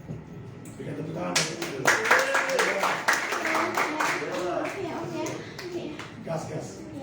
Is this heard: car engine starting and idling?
no